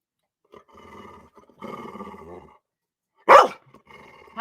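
A dog barks once, loud and sharp, after a stretch of quieter murmuring sounds, then a second bark starts at the end.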